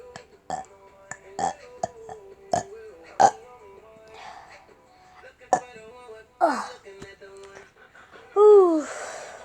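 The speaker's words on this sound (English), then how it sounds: "Oh my god, I have so many burps." A person lets out several burps, including a long, loud, drawn-out belch near the end, with short clicks and vocal noises between them in a quiet indoor setting.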